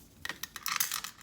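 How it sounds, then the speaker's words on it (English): Scissors snipping string close to a knot on a custom beaded keychain, a few quick, faint metallic clicks and snips close by, no voices. "you'll take your scissors and you will get really close to the knot"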